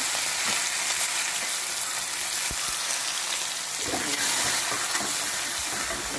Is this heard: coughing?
no